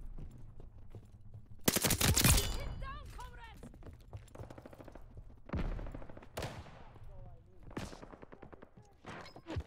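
Heavy gunfire rattles through a World War II shooter game, with a dense, loud burst of rapid shots early on followed by scattered, sharper volleys near and far, while voices talk over the fighting.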